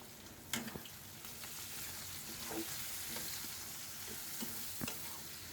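Chicken pieces fry with onion and green chilli, a quiet steady sizzle broken by a few sharp spatula scrapes and clinks against the pan.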